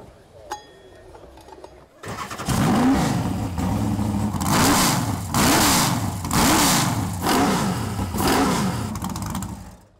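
A Rolls Royce Thunderbolt car engine at a Festivals of Speed show starts after a quiet moment, then roars loudly and close through several rising and falling revs before dropping at the end.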